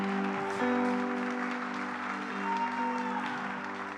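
A church congregation applauds during a sermon, a broad, steady wash of clapping held at even loudness throughout, with sustained musical tones sounding beneath it.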